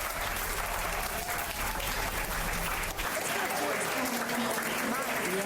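Steady applause from a crowd in the video game Psychonauts, dense clapping that fills the clip at an even level, with a brief dip near the middle.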